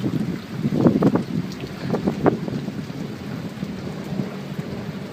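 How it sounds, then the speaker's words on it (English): Rolling thunder rumbles through a storm with steady rain and wind noise, several low cracks and booms in the first half easing into a continuous wash of rainfall, no voices present. "Thunder and lightning."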